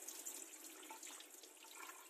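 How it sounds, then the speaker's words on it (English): Rinse water drains from soaked sticky rice being prepared for mango sticky rice, a faint, steady, thin trickle and splash with no talking. "Drain the water out"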